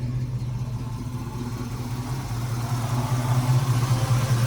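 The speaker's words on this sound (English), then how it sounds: "that's the driveline vibration" A 1969 Buick Special Deluxe with a bent driveshaft idles with a steady low rumble and droning hum, a constant driveline vibration that grows slightly louder toward the end.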